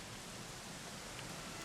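Rain falls in the Dragon Quest XI video game as an even, quiet, continuous hiss of drops with no other sounds over it.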